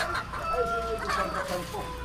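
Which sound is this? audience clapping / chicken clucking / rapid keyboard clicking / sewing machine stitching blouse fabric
chicken clucking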